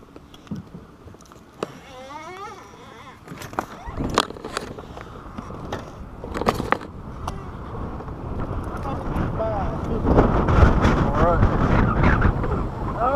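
Gusty wind buffets a bass fishing boat on Lake Murray, rumbling and rising louder toward the end, with voices talking intermittently over it.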